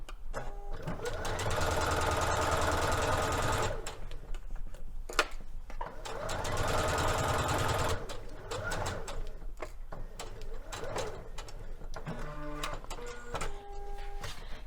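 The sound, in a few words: sewing machine basting the edge of a facing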